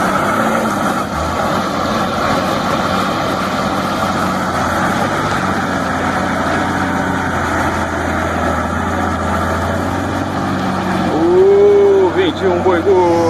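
A fat ox moos in long, loud, drawn-out calls close by, heard over the idling engine of an L200 Triton pickup during a muddy off-road outing.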